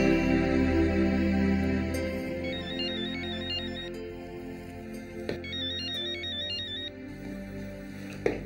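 A mobile phone ringtone plays a repeating electronic melody in two bursts over steady background music, marking a late-night incoming call.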